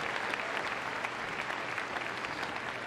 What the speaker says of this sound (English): Give her a round of applause as she comes in